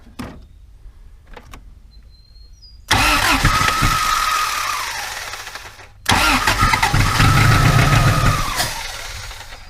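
An off-road trail rig's engine cranks and catches, then revs up in two loud surges a few seconds apart, each swelling and easing off, with no talking.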